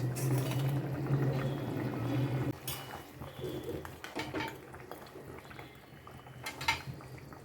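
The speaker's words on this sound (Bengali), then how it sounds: "ঝোলটা ফুটে গেছে দিয়ে দিচ্ছি ভেজে রাখা মাছ" Fried fish goes into a pot of boiling fish curry: a bubbling simmer at first, then clinks of utensil on pot and light splashing and scraping as the pieces are added, close and moderately quiet with no voices.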